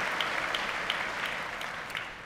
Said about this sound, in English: Why don't you give yourselves a round of applause for sticking with us.